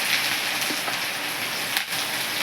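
Mustard seeds, cumin, chili and finely chopped onion sizzle in hot oil, a continuous close crackling hiss with small pops and no talking.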